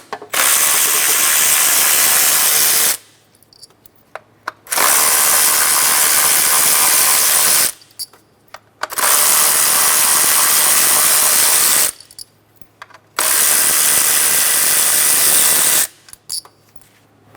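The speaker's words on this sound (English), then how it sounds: "Using a 10mm socket, remove the ignition coil bolts." A 10mm socket ratchet removes ignition coil bolts on a 2007-2012 Nissan Altima: four long bursts of loud, rapid clicking, each followed by a short quiet gap with faint handling noises.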